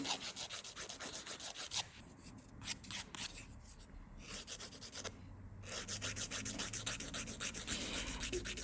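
Nails are filed with a 240 grit Kanga board nail file, close, rhythmic rasping strokes repeating back and forth with short pauses between bursts and no voice.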